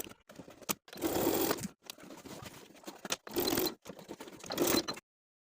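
Sewing machine stitching a small rectangle through the overlapped short ends of a waistband elastic for kite pants, in three loud bursts of whirring stitches separated by brief pauses, close up with no talk.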